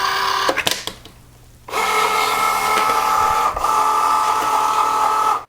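A Cricut Joy cutting machine loads a sheet of smart material, giving a few quick clicks, a short pause, then a steady motorized whir with a brief dip midway before stopping abruptly.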